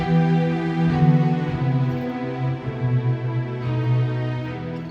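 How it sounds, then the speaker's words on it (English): Sustained string ensemble swelling slowly through long, layered chords, lush and cinematic, with no other sounds. "the cinematic strings sounds like this all by themselves"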